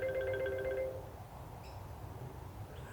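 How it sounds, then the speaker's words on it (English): A mobile phone ringtone chirps in a brief melodic burst, fairly faint against rustling outdoor background noise on a farm, then fades out with a few distant tonal blips. "And my phone keeps ringing."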